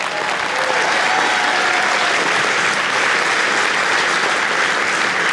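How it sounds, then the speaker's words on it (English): Loud, dense audience applause at the opening ceremony of a FIRST Robotics district event, a sustained wall of clapping from a large crowd with no gaps. "give a round of applause for our sponsors"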